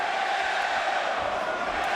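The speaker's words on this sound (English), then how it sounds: "the crowd letting him know that that was not a popular call in this arena tonight" A boxing arena crowd reacts to a point deduction in the 11th round, a steady loud wash of massed voices booing and murmuring, sustained without a break for about two seconds.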